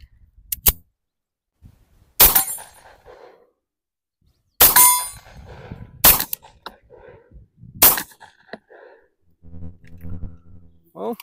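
A Tisas 1911 Carry B9R 9mm pistol fires Armscor 124 grain jacketed hollow point rounds, sharp loud shots spaced a second or two apart with ringing metallic tails, close by, followed by a faint voice.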